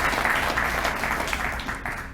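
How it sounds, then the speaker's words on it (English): An audience at a city presentation applauds loudly and continuously, a dense wash of clapping from a large room with no speech on top. "Yeah, you can applaud for that."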